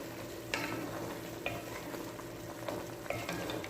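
Beef adobo simmering in vinegar in a cooking pan sizzles softly while a utensil stirs it, giving a few sharp scraping clicks over the gentle bubbling.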